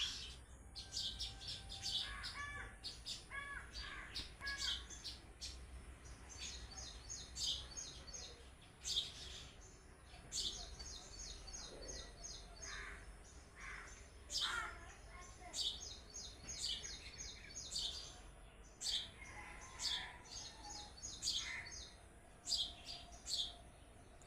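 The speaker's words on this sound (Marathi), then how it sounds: "पक्षी आलेला आहे, छोटा पक्षी आहे." Small birds chirp in quick repeated bursts of high, thin notes, scattered throughout over a faint low hum and soft background noise.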